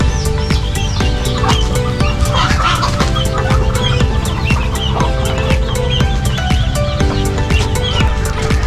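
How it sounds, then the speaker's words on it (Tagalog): Farm chickens, roosters and hens, cluck steadily and close by, with busy overlapping calls and scattered sharp peeps filling the whole stretch. "ito po yung manok din naglilimlim"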